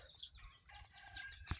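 Chickens clucking and crowing in a brief, faint burst, with a sharp thump near the end and no talking.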